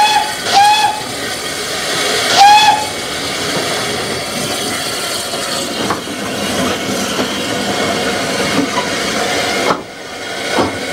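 A Belgian-built 0-6-0 narrow gauge steam tank locomotive on decaying track in Spain, hauling a mixed train, gives two short steam whistle blasts over continuous steam hiss and chuffing, loud and close.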